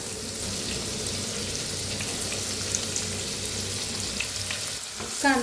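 Onion, asafoetida and curry leaves frying in oil in a new kadhai, a constant close sizzle and crackle with faint stirring, ending in a brief rattle.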